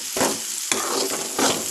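Chili powder, salt, turmeric and masala fry in a pan for bathani kurma, with a loud, close sizzle and three sweeping stirs, no talking.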